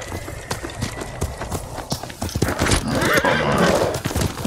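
Horse neighing with clip-clopping hooves in the video game Ghost of Tsushima, a loud whinny rising over steady hoofbeats and outdoor ambience.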